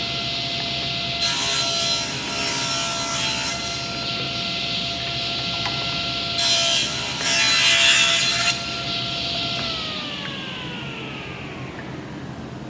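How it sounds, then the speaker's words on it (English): A table saw runs with a steady hum and cuts through wood in two passes, each a loud rasping bite over the motor before it winds down at the end. "I'm gonna set this table saw for 3/4 of an inch, make 2 cuts"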